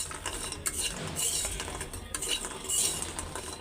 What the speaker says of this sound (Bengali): তো আমি ডালের বড়ি কটা ভাইজা নিতেছি